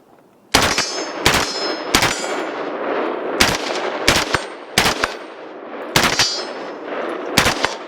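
An HK G36 rifle fitted with a Knight's Armament rail and hand grip fires in two-round burst mode, giving seven or eight loud, sharp bursts spaced about a second apart, each leaving a ringing tail.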